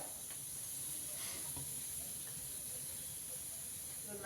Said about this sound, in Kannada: ಇವಾಗ ನಾವು ಲೈಟಾಗಿ ಇದನ್ನು ಬಾಣಲೆ ಒಳಗಡೆ ಹಾಕಿ ಸ್ವಲ್ಪ ಫ್ರೈ ಮಾಡ್ಕೊಳ್ಳೋಣ